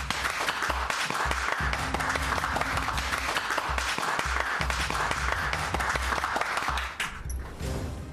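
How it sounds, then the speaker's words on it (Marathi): A group of people clapping steadily in a hospital room, a sustained ragged applause that fades out near the end with no voices. "ए वाजवा रे टाळ्या"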